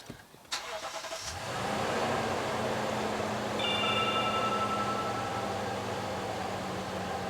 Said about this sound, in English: Okay, I'm going to go ahead and start the engine.